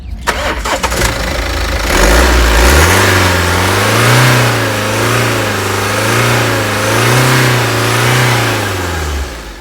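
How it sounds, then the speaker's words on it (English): A 2020 BMW 320d GT diesel engine cranks and starts, then revs up and down several times in smooth waves before settling, loud and close. "Let's hear the sound of the engine."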